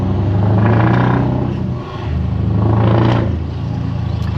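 Loud, close revving of a Scania R500 V8 truck exhaust echoing off buildings in an industrial estate, with two big swelling rev cycles that rise, dip and build again.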